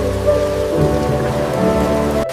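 Steady rain falls on a rainy day, a dense continuous patter with a low, even hum beneath it and no speech.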